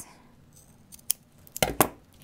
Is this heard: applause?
no